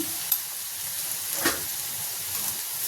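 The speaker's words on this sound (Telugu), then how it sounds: "కూర ఫ్రై చేసుకున్నాం ఇందులో ఒక హాఫ్ స్పూన్ పసుపు వేసుకుందాం" Steady, close sizzle of ivy gourd curry frying in a pan with turmeric, a continuous hiss with a couple of faint clicks and one brief burst of stirring midway.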